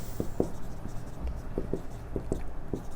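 Chalk or pen scratches out short quick strokes on a board during a maths lesson on quadratic equations, an irregular series of close taps and scrapes over faint room noise.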